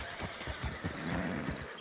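Hooves of a walking horse clip-clopping close by in a steady rhythm of repeated knocks, heard over a fairly noisy background.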